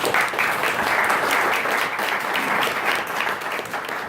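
Steady applause from a gathered family at a reunion, many hands clapping in a dense, even wash that holds for several seconds at close range without voices.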